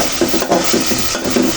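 Chicken coated in ginger paste stirred in a cooking pot, with rhythmic scraping strokes and a soft sizzle underneath, close and fairly loud, no voices.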